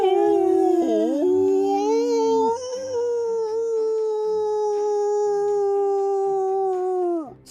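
A dog howls in one long sustained wail with a rising and wavering pitch, loud and close, with a brief dip before trailing off at the end.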